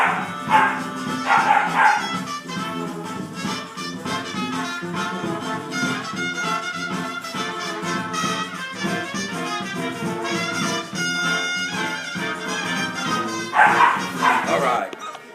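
Puppies of several breeds, including St. Bernard and shepherd types, bark and yip in a lively, continuous chorus with music-like harmonic layers, loud and close throughout with bursts of high yelps near the start and end.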